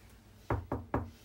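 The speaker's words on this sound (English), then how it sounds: "Hannah, can you knock on that?" Three sharp knuckle knocks on a solid ceramic tile shower wall inside a motor coach, evenly spaced, close and clear with no talk.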